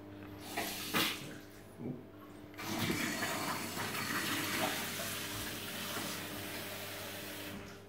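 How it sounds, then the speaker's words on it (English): Water runs from a shallow tap during a snagging check in a newly converted six-bed HMO, a steady broadband rush with a few louder bursts near the start, heard up close with no talk. "sometimes you want to test those taps. If they're shallow, you don't want water kind of splashing everywhere"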